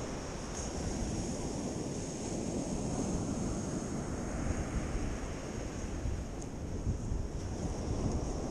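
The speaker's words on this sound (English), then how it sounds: "I had to run away from the waves. The waves try to get me." Ocean waves wash onto a beach in a steady, broad roar mixed with wind buffeting the microphone, the surf swelling gently without clear breaks and no voices over it.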